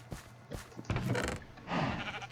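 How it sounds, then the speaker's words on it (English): Sheep bleat in the Minecraft Sky Factory game, several short wavering calls in quick succession, fairly close and clear with no talk over them. "Hello, little sheep."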